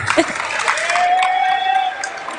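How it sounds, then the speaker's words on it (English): Crowd applauding and cheering at a high school basketball game between Egg Harbor Township Eagles and Millville Thunderbolts, a dense, steady wash of clapping with a whistle-like tone, underneath a commentator's voice. "And a loud applause from the crowd"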